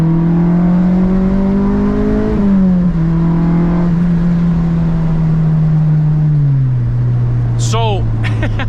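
A Honda Civic Si engine holds a loud, steady drone as the car pulls under acceleration from inside the cabin, dipping and settling as it shifts gears, with a brief squeaky sound near the end.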